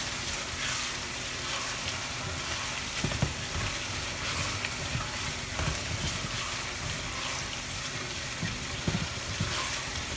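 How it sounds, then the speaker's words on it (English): Lumpia filling sizzles steadily in a frying pan as it is sautéed, with a constant hiss and occasional scraping stir strokes, close by and without talk. "keep sauteing it around a little bit."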